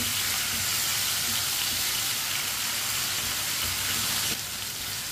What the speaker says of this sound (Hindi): चिकन को भी चम्मच चलाते हुए फ्राई करना है।